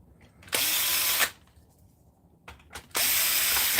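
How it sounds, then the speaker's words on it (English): A power screwdriver backs screws out of the image drive board inside a Sony VPL-HW45 projector during a teardown, two loud whirring bursts of under a second each, close up, with quiet pauses between. "So let's pop these screws out of the image drive board."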